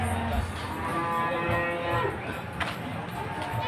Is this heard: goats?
yes